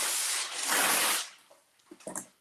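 Cooking spray hisses onto parchment paper over a kitchen sink, where ground chicken is being prepared: one steady burst lasting about a second, followed by a few soft handling taps.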